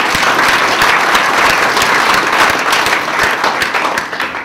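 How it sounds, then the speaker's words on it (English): A large conference audience applauds loudly and steadily, a dense wash of many hands clapping at once that tapers off slightly at the end, with no voices over it. "Can we have a round of applause to Microsoft?"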